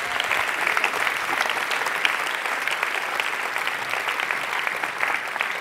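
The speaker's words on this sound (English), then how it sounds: "give him a big round of applause" An audience at a fringe festival show gives a volunteer a sustained round of applause, a dense, steady clatter of many hands that holds even and fairly loud throughout with no talking over it.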